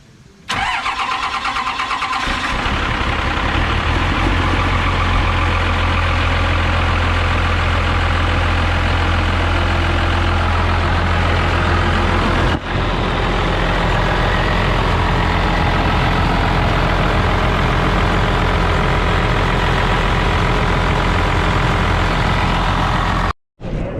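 A 12-valve Cummins diesel truck engine fires up after a turbo and three-piece exhaust manifold install, then settles into a steady, loud, close idle that holds with no voices until it cuts off at the end.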